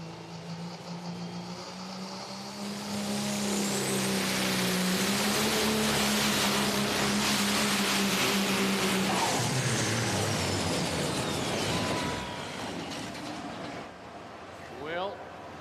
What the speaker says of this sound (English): Lonnie Saylor spools up that Holy Smokes Oak Park, Minnesota-based machine. 1963 Peterbilt 351.